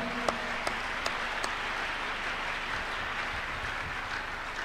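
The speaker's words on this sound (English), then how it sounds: "So let's clap unto God and appreciate Him." Congregation clapping during a Tuesday miracle service at church, a steady, even wash of applause across the clip with a few sharper individual claps standing out early on, moderately distant.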